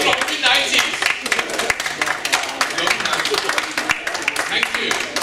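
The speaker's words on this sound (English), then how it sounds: "Big round of applause for 180s." Audience claps and applauds at a live comedy-music show, a dense, steady round of clapping close by with someone speaking over it.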